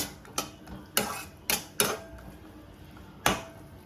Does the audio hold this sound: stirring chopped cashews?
yes